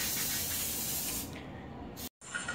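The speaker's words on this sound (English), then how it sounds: "you have to spray the pan so that the cake won't get stuck to the pan" A steady hiss of an aerosol cooking spray sprayed into a cake pan, held down for about two seconds, then a brief silence and a short final spritz.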